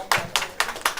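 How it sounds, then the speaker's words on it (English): A room of people claps in four short, sharp bursts for a visiting quiz team from NIT Jamshedpur at a technology quiz, each burst fading quickly before the next, fairly close and loud. "a round of applause for them"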